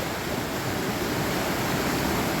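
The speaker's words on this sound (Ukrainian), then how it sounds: "Річка ця спадає з гір і так гарно шумить." An Alpine mountain river runs down from the peaks with a loud, continuous rushing roar that stays steady and unbroken throughout.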